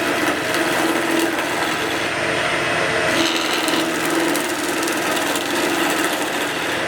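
Skew chisel fed slowly into a wooden spindle spinning on a lathe. A loud, continuous rasping hiss of cutting rides over a steady machine hum, shifting in tone partway through as the tool's contact changes.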